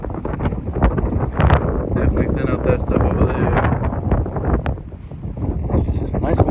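Gusty wind on a warm day buffets the microphone and rustles the trees around a camp in a steady rumble, while a person talks over it.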